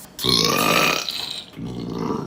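A long, loud, croaking burp right after a meal of mac and cheese, rolling for nearly a second, then dropping into a second rougher, quieter belch. No talking.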